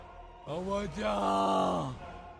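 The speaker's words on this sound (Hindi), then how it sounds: "तभी किसी के चिल्लाने की आवाज आई" A man lets out a drawn-out, strained scream for help in a horror-story scene, a single loud cry lasting about a second and a half that rises and then holds.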